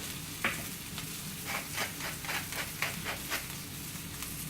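Swiss chard and rapini sizzle in a hot pan, a steady soft frying hiss with a run of brief crackling bursts and stirring scrapes, close and moderately quiet, with no one talking.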